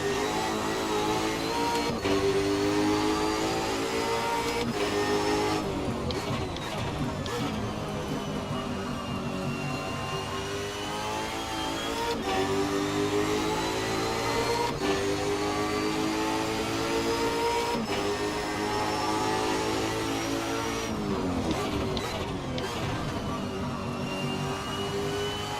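Supercar engines racing in Assetto Corsa at Watkins Glen, a continuous loud engine drone whose pitch rises and falls through gear shifts and corners across the whole stretch, with no talking.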